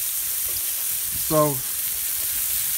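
Smash burger patties and onion slices sizzle on a griddle with a loud, steady hiss throughout, and a voice speaks one brief word over it.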